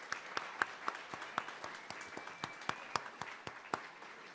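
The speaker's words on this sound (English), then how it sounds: "let's give a big round of applause to the 30 companies who came out here" A small audience claps for thirty startup companies at a pitch competition awards event, with sharp individual claps standing out in an uneven rhythm that sounds fairly close but quiet.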